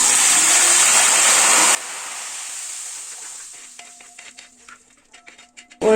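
Salt water is poured into hot oil while banana chips fry, setting off a loud, crackling sizzle that suddenly drops away after a couple of seconds, followed by faint stirring and scraping in a quiet kitchen.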